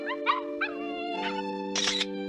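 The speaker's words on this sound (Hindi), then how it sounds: "अभी मैंने एक डॉग की आवाज सुनी।" Cartoon dog in a Doraemon episode yelping and howling in a few short bursts, close and clear over a steady sustained tone.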